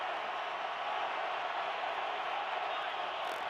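Steady roar of a stadium crowd at an NFL game, Patriots at Cardinals in 2016, a dense continuous wash of massed voices at full volume on a third-and-15 play, with no single shout standing out.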